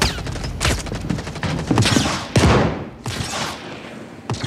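Sniper rifle fire in the video game Star Citizen: several sharp, loud shots crack out at irregular intervals, each followed by a short echoing tail.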